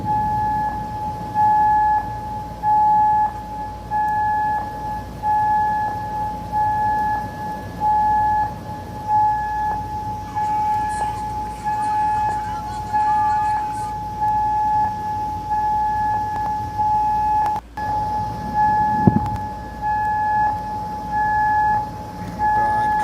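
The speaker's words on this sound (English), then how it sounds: "Here is what the sirens sounded like on the ground in Kuwait." Civil defense air raid sirens wail over Kuwait during an attack, a continuous steady tone pulsing on and off in short regular bursts, with faint background noise and scattered distant sounds underneath.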